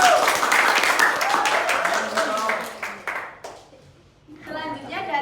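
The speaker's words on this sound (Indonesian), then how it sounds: "Beri tepuk tangan untuk kelompok" Applause rises from a class for a student group, clapping strongly at first and then thinning out and fading, with a voice starting to speak near the end.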